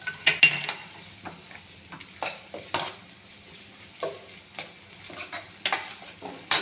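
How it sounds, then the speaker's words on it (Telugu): Bottle gourd curry ingredients with ginger are stirred in a pan: a spoon gives irregular scrapes and clinks against the metal over a faint sizzle, with no talking. "ఇదంతా పచ్చివాసన పోయేంత వరకు కలపాలండి బాగా"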